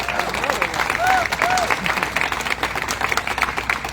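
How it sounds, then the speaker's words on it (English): Audience applause at a Golden Spike ceremony, a steady crowd of clapping hands sustained across the whole stretch, fairly close and loud, with a brief voice sounding over it. "And another round of applause for you."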